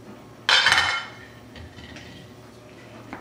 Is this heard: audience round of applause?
no